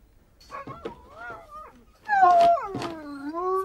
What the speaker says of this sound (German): Verfluchter Köter. Er hat Hunger.